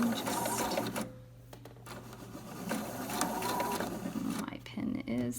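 A home sewing machine stitches quilt triangles for a farmhouse floral quilt, a steady mechanical whir with a brief pause in the middle, close and clear, with someone talking softly over it.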